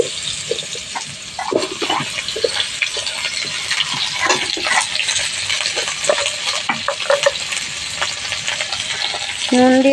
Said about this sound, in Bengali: এবার আলুটা আমি ভেজে নেব।